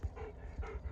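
A dog out of breath after climbing a steep hill, panting quickly and close up in a few rhythmic breathy puffs, heard alone.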